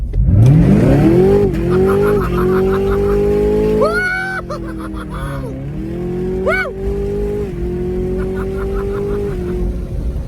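A 650 hp Camaro ZL1 on bald, worn tires revs hard and holds a loud, sustained burnout, its engine note rising and dipping through several pulls under constant tire roar.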